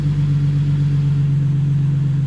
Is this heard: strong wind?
no